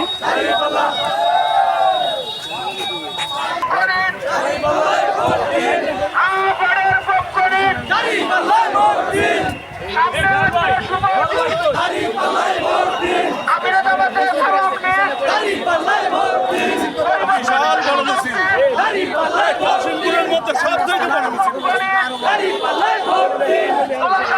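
A large crowd at a Jamaat election rally procession in Gazipur, Bangladesh, chants slogans loudly and continuously in rhythmic call-and-response, a mass of voices shouting together close by.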